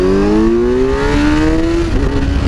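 A Kawasaki Z900 motorcycle revved in first gear, the engine pitch climbing steadily for a couple of seconds before dropping off, very loud and close.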